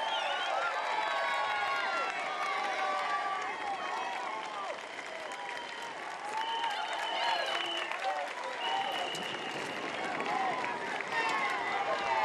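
A roadside crowd at the 100th Tour de France in Dinan cheers, claps and whistles steadily as the riders pass, with an announcer talking over the sustained noise.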